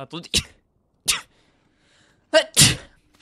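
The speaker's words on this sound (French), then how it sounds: "Excusez-moi, je viens d'éternuer." A single sharp sneeze close up, preceded by a few quick breathy sounds and separated by brief silences.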